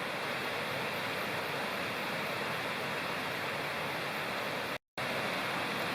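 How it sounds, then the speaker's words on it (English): A roaring creek near a campfire at Coker Creek gives a steady, broadband rush of water that holds without a break, loud and close, except for one abrupt drop to silence for an instant. "Roaring creek over there, and frogs are croaking just down the way there."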